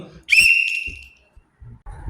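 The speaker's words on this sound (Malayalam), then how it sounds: "അപ്പോൾ ഞാൻ ഈ വിസിൽ അടിക്കാൻ പോണ്" A pea whistle with a white ball inside is blown up close. It gives one loud, shrill blast lasting under a second, framed by soft breathing and handling noises.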